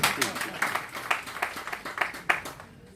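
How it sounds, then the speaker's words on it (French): Scattered clapping from an audience at a seminar panel during an open-day event, a few seconds of uneven claps fading toward the end, with some voices mixed in. "Ben oui, ça s'applaudit."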